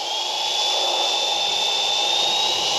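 Trex 450 radio-controlled helicopter motor spooling up outdoors in a garden, a loud, steady high-pitched whine that rises gradually in pitch and stays close and constant throughout, with no talk.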